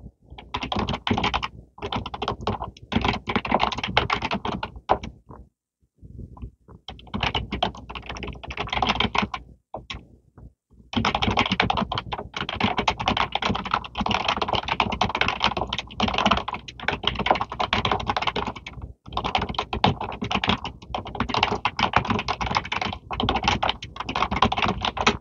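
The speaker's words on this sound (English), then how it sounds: "just run me through it and I'll type as fast as I can" Rapid, continuous typing on a computer keyboard, close and clear, a dense clatter of keystrokes running for most of the stretch with only a few brief pauses and no voices.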